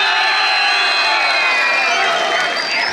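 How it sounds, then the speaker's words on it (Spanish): A crowd at a huaylas dance contest in Huancayo cheers, whoops and applauds a dance couple, loud and dense throughout, with shouting voices over the clapping. "vamos a pedir los aplausos para la pareja que representa a Unión Progreso Tiberá"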